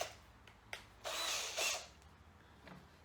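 A power drill fitted with a 6mm bit bores a hole under very light pressure while fitting a side puller kit. It gives a few short whirring bursts with clicks between them, close by and fairly quiet.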